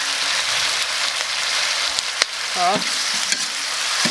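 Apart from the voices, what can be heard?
stir-frying pig ears in a wok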